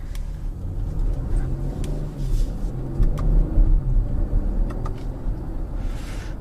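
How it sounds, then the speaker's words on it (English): A BMW X7 xDrive40i SUV reverses at low speed, its engine giving a steady low rumble with slight swells, with a few faint clicks and light interior noises over it. "So I'm gonna reverse in here."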